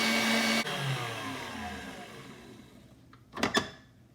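An electric mixer whipping cream to stiff peaks for a bakery-style white cake whirs loudly, then winds down in a falling whine, followed by a couple of sharp clacks.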